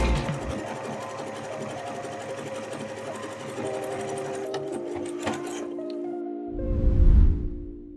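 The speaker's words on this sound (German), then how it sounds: "gleich, wenn wir einmal um die Außenkante nähen im Zickzackstich" Sewing machine running a zigzag stitch around the outer edge of a fabric shoe, a fast continuous mechanical hum that stops abruptly, followed by a short soft low thump.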